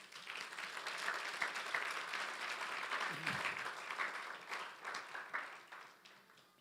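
Church congregation applauding during a service at Iglesia Transversal, faint, broad clapping that swells and fades with a brief low voice partway through.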